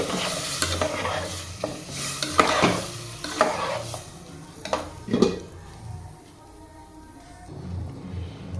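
Sambar with toor dal bubbling and foaming in a pot, a soft simmering hiss with scattered stirring clinks and scrapes, moderately close and fading toward the end.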